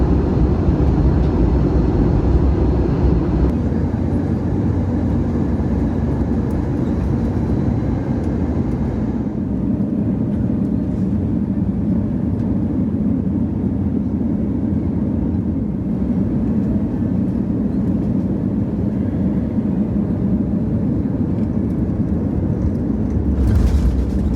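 Cabin of a Lufthansa Airbus A320neo on descent into Madrid, a loud steady roar of engine and airflow that thins slightly midway, continuous throughout with no voices.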